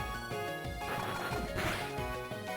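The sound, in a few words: Bug Bite attack hitting, Pokémon Lazarus video game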